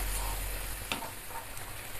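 White vinegar sizzles in a hot pan, a steady hiss with a few brief crackles, fairly quiet and close.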